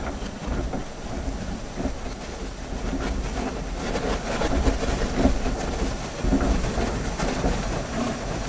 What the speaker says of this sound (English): That is the sound of the ice going past the boat.